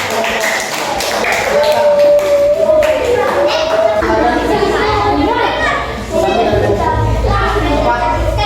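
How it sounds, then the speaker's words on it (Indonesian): Schoolchildren in an Indonesian classroom break into rhythmic clapping mixed with lively chatter and voices, loud and close throughout, with a sung or chanted tone rising in the middle. "kita berikan tepuk tangan"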